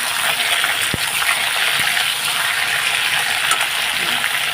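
Taro (gathi) pieces, freshly cut and washed, being turned in a hot pan for a shrimp dish, giving a steady, close, hissy sizzle throughout with a single soft clink near the start.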